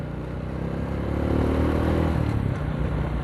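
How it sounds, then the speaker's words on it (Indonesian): Honda Karisma X 125D motorcycle riding along, a loud close droning engine and exhaust hum mixed with rattling body panels, swelling slightly midway and holding steady with no talking. "Suara knalpot tuh kalah sama suara bodi."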